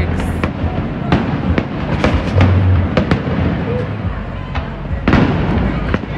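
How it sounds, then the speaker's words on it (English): Fireworks bursting repeatedly at a distance, sharp cracks and pops scattered irregularly over a constant outdoor crowd murmur with faint voices. "they doing fireworks"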